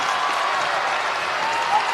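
Basketball crowd at a high school game cheering and applauding right after a tying shot late in the fourth quarter, a loud, steady, dense roar and clapping sustained throughout.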